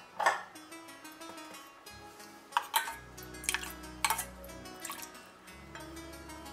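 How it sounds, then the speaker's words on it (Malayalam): Sugar and rose syrup being mixed into panna cotta, with a few light metallic clinks and taps of a spoon against a vessel and soft liquid sounds over quiet background music. "1 ടേബിൾ സ്പൂൺ പഞ്ചസാരയും 1 ടേബിൾ സ്പൂൺ റോസ് സിറപ്പ് ഇട്ടിട്ട് നന്നായിട്ട് ഇതിനെ മിക്സ് ചെയ്യണം"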